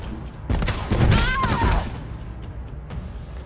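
Gunshots with loud crack and rumble in Resident Evil 2, a cluster of blasts over about a second followed by fading reverberant game noise.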